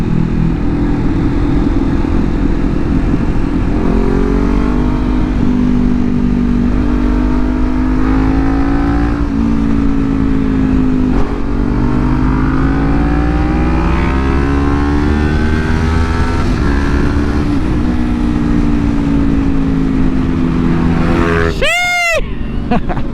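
A Kawasaki Ninja 400 motorcycle engine drones steadily while riding, pitch rising and falling with throttle changes, loud and continuous throughout, with a sharp rising rev sweep near the end.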